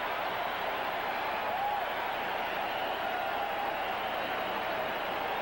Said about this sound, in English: the crowd with a little bit of "what have you done for us very lately" cheering